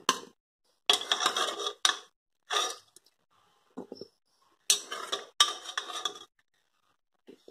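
Boiled fig pieces being moved into a bowl, with a series of short clinks and scrapes of a utensil against dishware in separated bursts, close and fairly loud, with quiet pauses between.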